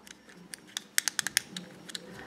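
Buttons on a Fidget Cube clicking one after another, a string of about a dozen sharp, close, dry clicks with a quick cluster in the middle, quiet and with no talk.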